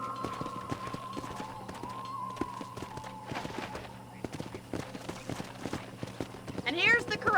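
Horse hooves clip-clop steadily on ground in the Red Dead Redemption video game, a close, even rhythm running under a continuous background hum and music, with a voice speaking over parts of it.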